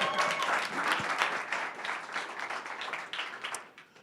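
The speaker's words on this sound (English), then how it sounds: "Round of applause for them tonight," Applause from a startup event audience welcoming an electric bicycle company: a moderately quiet wash of many clapping hands that thins and fades toward the end.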